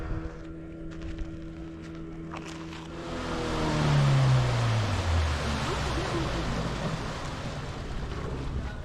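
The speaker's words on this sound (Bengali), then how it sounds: "চলে গেল স্পিড বোট গায়েব হয়ে গেল" A speed boat on the Chandil reservoir roars past with a loud engine drone whose pitch falls as it moves away, then fades into a broad wash of water and wind noise.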